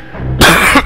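A single loud, harsh cough bursts out after a quieter stretch, followed by a brief second catch of breath.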